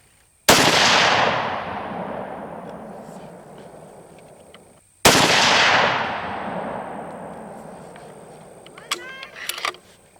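Two sharp, loud .260 Remington rifle shots fire several seconds apart. Each blast rings out into a long echoing decay, and a few small mechanical clicks follow near the end.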